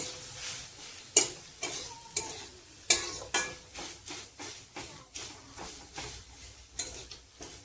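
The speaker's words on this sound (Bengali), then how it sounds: "তো আবারও আমি এরকমভাবে নাড়িয়ে চাড়িয়ে নেব।" Bitter gourd coated with a spoonful of gram flour is stirred in a pan, making rhythmic scraping strokes roughly twice a second over a light sizzle, close and clear.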